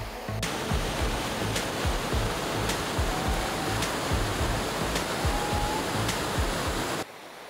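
Stream in a Ladakh valley, a steady, loud rush of flowing water filling the whole clip without pause, cutting off abruptly near the end.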